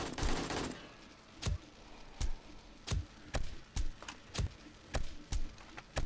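Turret gunfire in the game 7 Days to Die at a horde base: a run of sharp, loud single shots spaced roughly half a second apart, each a crisp broadband crack, with no talk.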